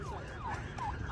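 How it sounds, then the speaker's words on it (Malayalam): An ambulance siren wails on a main road closed to other traffic, its repeated rising and falling sweeps sounding at moderate distance over steady crowd and street noise. "മെയിൻ റോഡ് ക്ലോസ് ചെയ്ത് ആംബുലൻസ് മാത്രം വരുന്നുണ്ട്"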